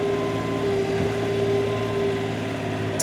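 A steady engine drone from a new tractor being driven along a quiet rural road, a constant idling hum with a sustained tonal whine, close and even throughout with no talking.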